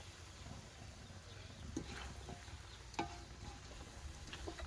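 Mushrooms stir-fried in a pan in a home kitchen in rural Isan, Thailand: a steady low sizzle with scattered scraping and clacking stirs, moderately close, no talk.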